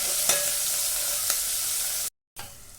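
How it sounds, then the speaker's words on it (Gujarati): Ginger-garlic paste and chopped chili hiss in a hot pan, a loud steady sizzle with a couple of quick stirring scrapes, then a brief cut and the sizzle resumes. "આદુ લસણની જે પેસ્ટ બનાવીને રેડી રાખી હતી એ અંબોરી દઈશું અને જે મરચું સમારીને રાખ્યું હતું એ પણ અંબોરી દઈશું અને આ બધી જ વસ્તુઓ હલાવી દઈશું"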